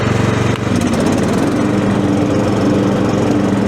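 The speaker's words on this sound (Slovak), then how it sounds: "potom jednoducho len zapnem nože na kosenie." A HECHT 5292 garden tractor runs at full throttle with its twin mowing blades engaged, producing a loud, steady engine drone with a whirring blade hum, close by and with no talking.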